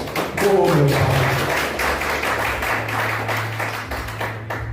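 Church congregation clapping for Jesus during a Portuguese-language service, a brief burst of handclaps over a sustained low organ or keyboard tone, with a voice speaking at the start.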